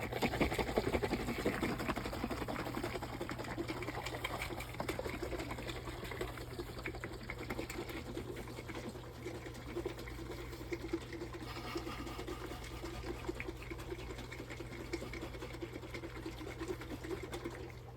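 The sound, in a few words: shaking porridge mixture in a container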